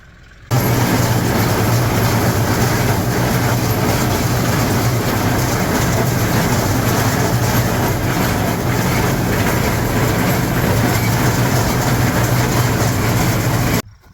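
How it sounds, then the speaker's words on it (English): An LS XR 4150 tractor pulls a John Deere 466 baler through a hay field, its loud, steady drone of engine and machinery running unbroken and close for the whole stretch. "I got the little LS XR 4150 hooked up to the John Deere 466 baler, like always."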